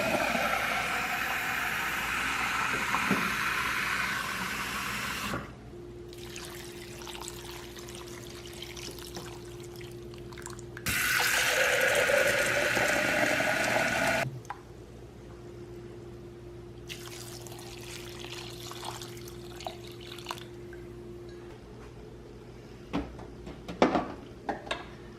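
Six cups of water poured into a crockpot with vegetable bouillon, two separate bursts of pouring splash between quieter drips and trickles, close by with no talk.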